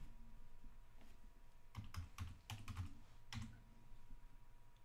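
A computer keyboard is typed on in a short burst of several quick clicks, with one more keystroke after a pause, quiet and close against a faint steady hum.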